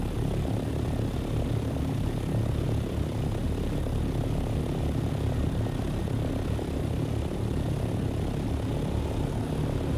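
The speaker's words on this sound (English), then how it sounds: "ornithopter owners, please use your vulture mode. They're complaining about noise." An ornithopter engine in the game Dune Awakening drones steadily and loudly throughout, a continuous low rumbling propeller-like roar with no talking.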